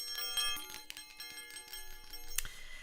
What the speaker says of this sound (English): I'll ring me bell just to clear the energy